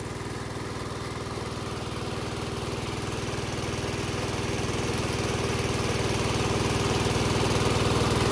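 A 6.5 horsepower engine drives a Naga-style pipe water pump drawing from a fish pond, running steadily and loudly close by with a constant droning rumble that builds slightly over time, with no talking.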